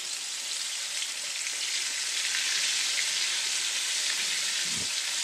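Battered saugeye fish pieces sizzle steadily in hot oil in a frying pan, a dense, even crackle filling the whole stretch with a brief low clunk near the end.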